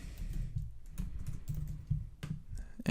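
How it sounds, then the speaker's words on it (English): Computer keyboard typing, a steady run of soft close key clicks with brief pauses and a few heavier taps, no speech. "in your listing, you can just directly type anything you want"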